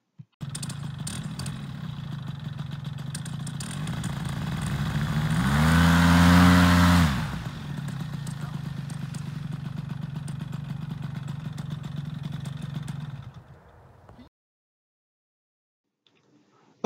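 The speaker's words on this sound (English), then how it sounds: "I went to mash the throttle in order to inflate the wing, and I was not getting the full power that I needed" A paramotor trike engine is run up to inflate the wing, giving a steady loud droning buzz with a surge and peak in the middle. The engine then holds a constant drone before cutting off, followed by near silence.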